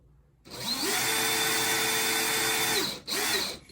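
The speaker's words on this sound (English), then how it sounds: "we will adjust the clutch a little bit on the drill" An electric drill whirs up to speed and holds a steady high spin for a few seconds, stops briefly, then spins again.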